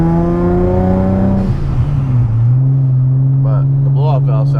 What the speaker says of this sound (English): But the blow-off valve sounds good.